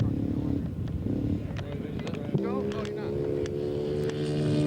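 A scale model J3 Cub aircraft flying at a scale aircraft show, heard as a steady buzzing engine drone whose pitch shifts partway through, with wind noise around it.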